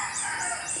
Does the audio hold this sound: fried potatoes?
no